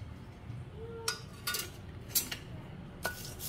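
Whole cumin, two cloves, a cardamom pod and a bay leaf are stirred in a kadai, giving a few faint, scattered metallic scrapes and clinks over a low background hum.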